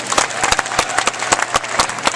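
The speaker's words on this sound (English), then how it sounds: "I'll just get you to clap and cheer and see what he does." An audience at a Harrisburg Expo horse demonstration claps in sharp, irregular bursts, a brisk round of applause with some crowd noise mixed in.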